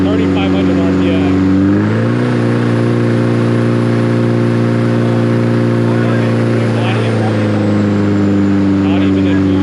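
The engine of a Nissan 240SX S14 holds a loud, steady rev around 3,500 RPM during tuning, rising briefly to a higher drone and sustaining a strong, even hum close by, with voices underneath.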